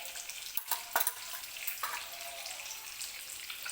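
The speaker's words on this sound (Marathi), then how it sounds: "1-2 मिनिटे फक्त ही अंडी आपल्याला तेलामध्ये अशी परतून घ्यायची आहेत" Eggs fry in hot oil with a bright, steady sizzle, close up, broken by a few sharper crackles and spatters early on, with no voice.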